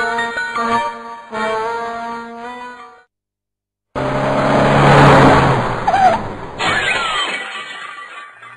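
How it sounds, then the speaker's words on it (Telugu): A car driven by a drunk driver accelerates hard: a loud engine rev builds and surges after a brief silence, with a sharp crash-like burst and tyre noise, preceded by tonal music. "గేరు మార్చాడు, దౌడ్ తీయించాడు, స్టీరింగ్ తిప్పాడు"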